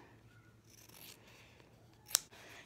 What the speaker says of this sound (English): I'm just going to trim off the back triangle part